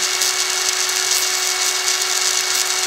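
A small rotary tool grinds across a wheel with a steady high-pitched whine and buzzing grind that holds constant throughout, close and fairly loud, with no talking.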